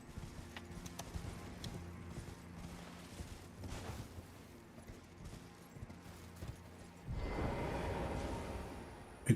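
Horse hooves clip-clop steadily in Elden Ring, a fantasy video game, as a ridden horse moves at a walking pace under game ambience and background music, with a heavier surge of sound near the end.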